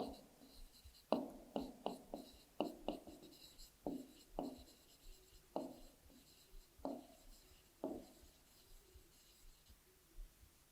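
Chalk or marker writing on a board during a class 4 maths lesson on addition and subtraction, a steady series of short tapping and scratching strokes, fairly faint and close, with no clear talk.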